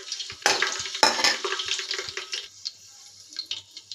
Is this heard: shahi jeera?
yes